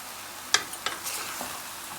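A spoon mixing sauce into chicken stewing in a pot, giving a couple of quick scrapes and a soft wet stir over a faint background simmer, brief and close.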